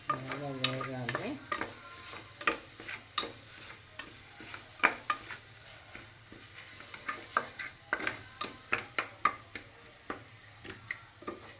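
Food frying in a pan as salt is added and stirred, many quick rhythmic scrapes and taps of a spoon against the pan over a faint sizzle, close up and without any talking.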